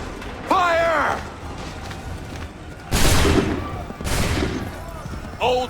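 Musket volleys in the Assassin's Creed 3 video game, two loud, crackling bursts of massed gunfire a second apart, each trailing into a rolling rumble, with shouted voices before and after.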